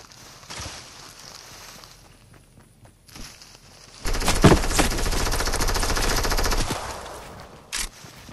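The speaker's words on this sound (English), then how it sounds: "Why are you shooting me?" Automatic gunfire in Fortnite: a few scattered shots and footsteps, then a sustained loud burst of rapid machine-gun fire lasting a few seconds, followed by a single late shot.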